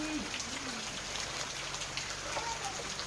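Heavy monsoon rain falls in an unbroken, even hiss throughout, fairly soft and distant, with faint background sounds underneath.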